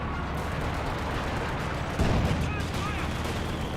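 Battle sounds from the real-time strategy game Company of Heroes 2, with 120mm mortar and gunfire, a heavy low thump about halfway through standing out over continuous dense combat noise, with a voice talking over it.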